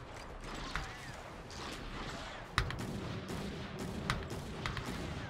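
Repeated gunfire from the video game Darkwatch, a steady dense battle bed with several sharper shots standing out, one strong report near the middle and a few lighter cracks later, with no talk.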